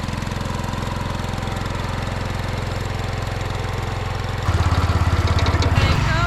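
Rototiller engine chugging steadily while tilling garden soil mixed with wood ash and sand, a close, continuous motor drone that rises in load and pitch near the end.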